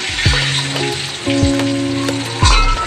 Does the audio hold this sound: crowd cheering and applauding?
no